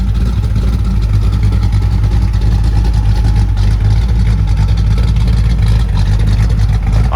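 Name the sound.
exhaust of restomod 1967 Chevrolet Nova 355 V8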